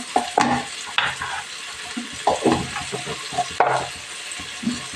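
Mint rice tossed with half a spoon of chili powder in a pan, the spoon scraping and clacking repeatedly over a soft background hiss, close up and brisk in rhythm.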